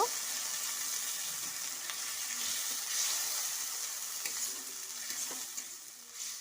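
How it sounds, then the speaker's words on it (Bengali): Tomatoes with salt and turmeric sizzle steadily in a pan while a spoon stirs them, a close continuous frying hiss with occasional faint scraping, no speech over it. "এবার একটু নাড়াচাড়া করে নেব।"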